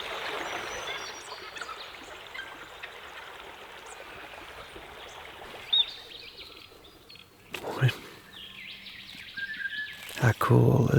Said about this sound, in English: How cool are those birds?